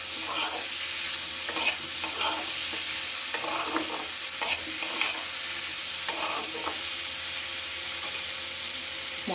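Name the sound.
spices frying in oil in a pan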